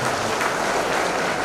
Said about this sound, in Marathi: जरा जोरदार टाळ्या झाल्या